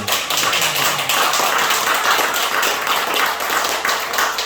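Sustained applause from a church congregation during a Sunday service, dense continuous clapping filling the whole stretch without any voices.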